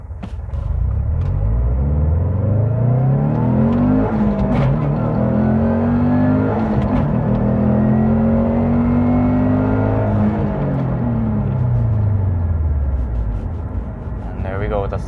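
Subaru STI with a billet VF48 turbo and external wastegate pulls hard through repeated gear changes, a loud, steady engine roar that climbs, drops at each shift and climbs again, with voices talking over it.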